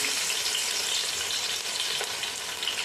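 Crushed garlic frying in hot oil for a spicy poha chivda, a steady bright sizzle with faint stirring scrapes, close and continuous with no talking.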